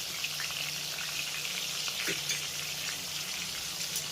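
Chopped tomato and green chilli being stirred and fried in spiced oil with ginger paste, giving a steady bright sizzle with faint spoon scrapes throughout, fairly close and without speech.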